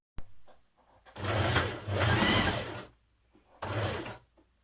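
A sewing machine stitches a seam on a Burda 6320 dress bodice, running in two close, loud whirring bursts separated by a pause, with a sharp click at the start and mechanical clunks between runs.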